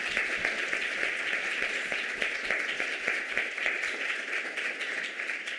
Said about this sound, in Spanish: permítanme darle un aplauso nuevamente a los tres panelistas.